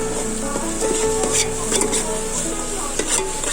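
Three green chillies, each slit in two, sauté in hot oil in a pan for hotel-style chicken biryani, giving a steady close sizzle broken by scraping stirs and light clinks of a spoon against the metal.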